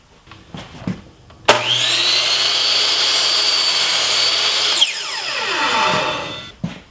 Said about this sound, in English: the first thing I'm going to do is put a miter on one edge